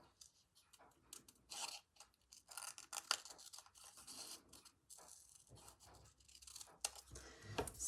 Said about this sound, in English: all I'm going to do is just cut it out of the template